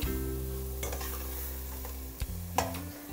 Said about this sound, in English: just get the butter all melted